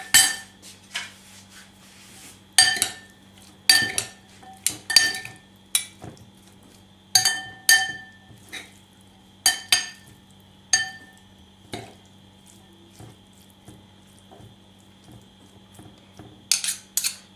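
A spoon mixing tuna salad with lemon juice in a bowl gives sharp, close clinks in uneven bursts, separated by quiet gaps over a faint steady hum.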